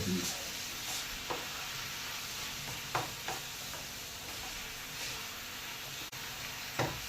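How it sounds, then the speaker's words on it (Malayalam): Tomato, onion, turmeric and salt sautéing in a pan for a home-style chicken roast, giving a steady sizzle with occasional scraping stirs close up and no talk. "തക്കാളി സവാള മഞ്ഞപ്പൊടി ഉപ്പിട്ട് നമ്മളൊന്ന് വഴറ്റാണ് നന്നായിട്ട്"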